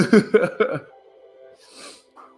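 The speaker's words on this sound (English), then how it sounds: "That's why you hear me sniffling a little." A brief nasal sniff from a person with allergies, a short breathy rush of air following a few quick throaty vocal sounds, close and fairly quiet.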